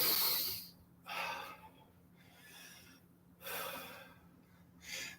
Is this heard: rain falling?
no